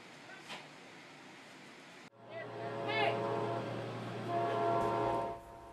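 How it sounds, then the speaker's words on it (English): An Amtrak train rolls past with a loud, sustained rumble while its horn blares, the roar building and holding before cutting off. "filmed a couple Amtrak trains from the cab car's engineer seat"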